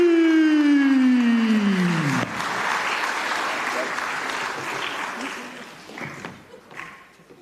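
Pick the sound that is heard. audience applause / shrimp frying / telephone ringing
audience applause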